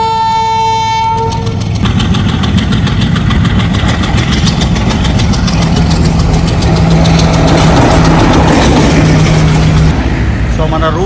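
Train engine in Colombo, Sri Lanka, rumbling loudly and continuously close by, with a sustained horn blast near the start and a drone that builds as the train runs, people talking over it.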